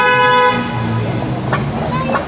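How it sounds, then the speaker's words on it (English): A loud, sustained car horn blares for about half a second, then gives way to road and traffic noise with faint voices. "Honk, honk."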